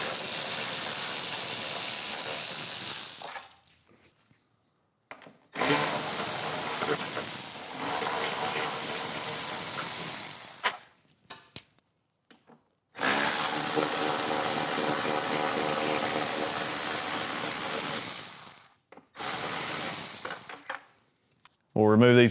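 Torx 25 windshield bolts being loosened on a 2024 Harley-Davidson Street Glide, with bursts of hissing, ratcheting power-tool noise separated by short silent gaps, close and loud.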